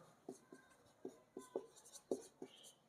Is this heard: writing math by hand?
yes